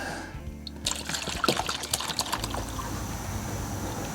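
Water pours steadily through a funnel into an RV water heater during descaling, a continuous close trickle and splash that keeps a constant level throughout.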